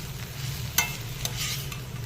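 Amaranth and fenugreek leaves stir-fried in a pan, with a soft steady sizzle broken by a few brief scraping stirs of a spatula, close and quiet, with no voices.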